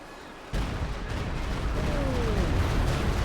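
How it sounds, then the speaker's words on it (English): German Stuka dive bombers strike in the strategy game Company of Heroes 2: a sudden loud blast opens a rolling barrage of booming impacts and crackling fire, with a descending whistle-like tone and steady battle rumble throughout. "Stukas was firing now"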